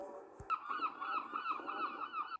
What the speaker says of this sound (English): My seagull friend.